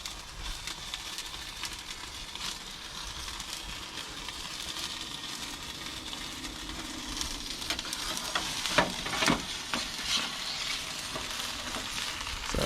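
Oil sizzles and crackles steadily under a Detroit-style pizza baking in an Ooni Koda 16 gas pizza oven, a loud, continuous frying hiss that swells slightly near the end.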